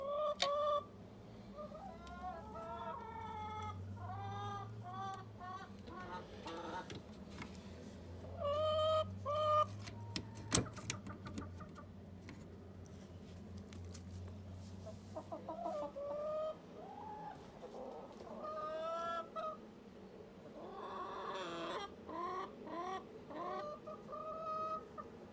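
Chickens cluck near an egg-laying spot, several hens including a new bird, with repeated short calls and squawks over a steady low hum, no talking.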